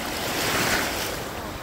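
Sea waves at a beach in Sousse, Tunisia, a broad rushing surf swell that builds and eases over a couple of seconds, fairly loud with some wind noise and no talking.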